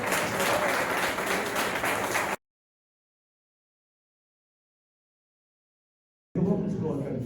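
A church congregation applauds at a healing and deliverance service; dense clapping for about two seconds cuts to silence, then returns in the last second.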